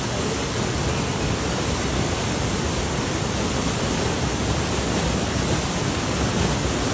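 A jungle waterfall pours with a dense, constant roar of rushing water, loud and unbroken from start to finish.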